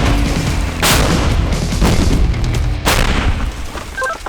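An M777 howitzer fires, producing heavy booming blasts with two sharp concussive hits amid a rumbling, noisy outdoor background.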